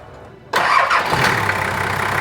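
Brand new engine cranking and catching abruptly after a quiet moment, then settling into a steady, loud, smooth idle close by.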